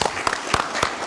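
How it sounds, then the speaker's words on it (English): Audience applause at a bar association memorial lecture in Grenada, a short burst of dense clapping with a few sharper claps standing out, fairly close and steady. "A round of applause again, please."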